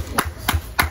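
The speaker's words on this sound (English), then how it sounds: "Everybody, a round of applause." Three quick bursts of hand clapping, spaced evenly apart, close and fairly loud over a low background rumble.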